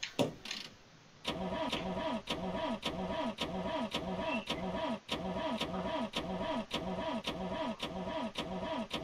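A car in The Long Drive video game cranking without starting, a fast, steady, mechanical churning repeating in even cycles for about eight seconds after a brief click, close and moderately loud, with no catch into idle.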